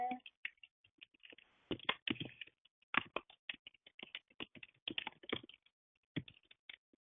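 Bursts of quick typing on a computer keyboard, clattering keystrokes in short runs with brief pauses, close and fairly quiet.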